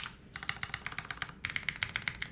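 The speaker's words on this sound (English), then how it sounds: "Even the F keys sound phenomenal on this." The F keys of a compact ergonomic mechanical keyboard are typed in a quick, irregular run of crisp, clacky keystrokes, close and moderately quiet with no talking.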